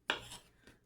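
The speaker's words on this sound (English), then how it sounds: "I've got these cherry tomatoes and I'm just going to cut them in half." A kitchen knife slices through cherry tomatoes for a Greek salad, giving one crisp, close cutting click followed by a fainter second knock on the board.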